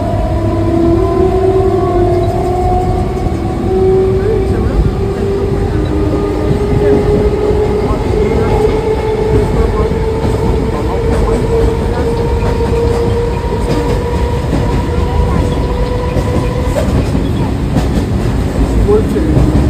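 Toy train ride in a park: a steady rumbling run with a rising mechanical whine and faint clatter throughout, close and continuous, with people talking over it.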